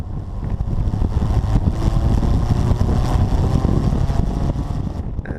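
An early-production Austin-Healey Bugeye Sprite engine runs hard near 5,500 to 6,000 rpm while driving, a loud, steady roar mixed with wind buffeting that stays constant throughout without talk.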